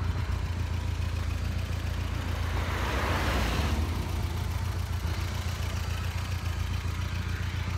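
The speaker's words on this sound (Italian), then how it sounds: "Col motore che è già bello caldo. E lo scarico che sborbotta." Warm turbocharged engine of a Fiat Punto GT idles outdoors, with a steady low exhaust burble and a faint rise in the middle, no talking.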